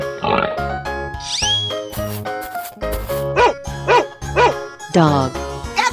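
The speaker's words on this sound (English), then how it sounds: "Dog." Cartoonish dog barks from a 3D animal sliding game ring out in a short burst of repeated yaps, layered over upbeat game music and other animal cries, with a voice calling out nearby.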